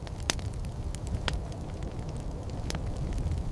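Ritual fire circle beneath a crimson sky, crackling steadily with sharp pops and snaps scattered over a low, constant roar, close and moderately loud.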